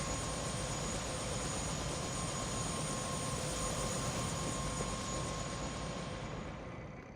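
A helicopter in the video game Prey gives off a loud, steady engine and rotor roar that holds at close range throughout and eases off slightly toward the end, with no speech.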